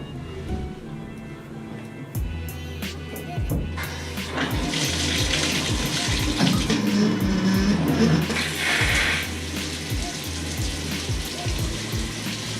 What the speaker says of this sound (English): So let's go ahead and give it a test.